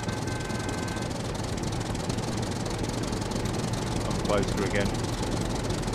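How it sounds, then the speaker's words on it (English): A tractor engine in the survival game Scum, a steady low mechanical drone idling throughout at moderate distance, with a brief voice heard near the end. "I can hear a tractor."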